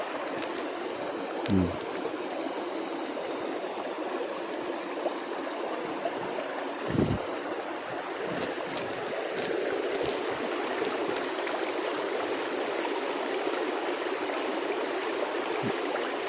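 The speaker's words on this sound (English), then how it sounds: "Cool little waterfall there, right?" A small waterfall outdoors gives a steady, continuous rush of flowing water, moderately loud and unbroken throughout, with a few faint knocks and no talk.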